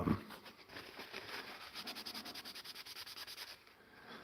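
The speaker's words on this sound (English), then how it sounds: "It needs a bit of a polish actually." A charred wooden camping spoon is rubbed and polished by hand in quick, even back-and-forth strokes, a soft rhythmic scratching heard close and alone, fading out at the end.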